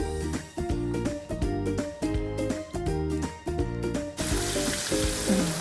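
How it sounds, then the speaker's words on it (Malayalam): Quail pieces frying in hot coconut oil in a pan, a loud crackling sizzle with repeated rhythmic bursts of spattering, then a brighter hissing surge near the end as more oil erupts. "നമ്മളെ ചട്ടിയിലുള്ള വെളിച്ചെണ്ണ നന്നായി ചൂടായിട്ട് വന്നിട്ടുണ്ട്. അപ്പോൾ നമുക്ക് കാട ഇടാം കേട്ടോ അതിലേക്ക്."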